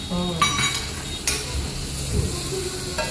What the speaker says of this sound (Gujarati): અને હવે આદુ અને લસણ નાખી દીધું.